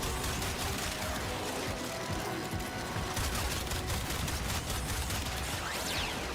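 Kuva weapon fire in Warframe, a dense, unbroken barrage of rapid shots and impacts that stays loud and steady throughout with no pauses.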